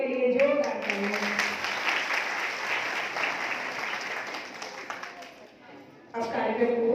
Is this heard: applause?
yes